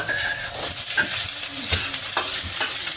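Garlic and onion frying in a pan, a loud continuous sizzle close by with repeated scraping strokes of a spatula and no talking.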